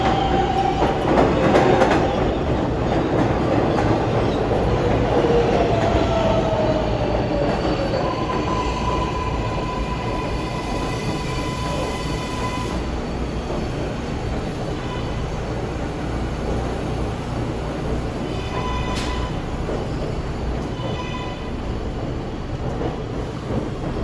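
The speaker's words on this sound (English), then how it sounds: "Trains arriving and departing quite a bit." NYC 7 line subway trains moving through Hunters Point Avenue station at evening rush hour: a rolling rumble with high wheel squeals and brief tonal whines, fairly close and loud, with no talking.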